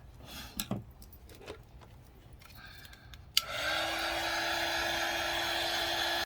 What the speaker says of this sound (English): I'm going to just hold the heat gun on it before I give it a second coat